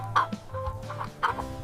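A chicken clucks in short, repeated bursts, close and moderately loud, with no talking.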